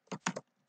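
A few quick clicks of computer keyboard keys, about four taps in rapid succession, close and clear, then a brief pause and one more keystroke.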